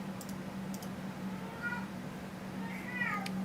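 A pet cat meows a few times in short upward calls, fairly close, over a steady electrical hum with faint clicks in a quiet room.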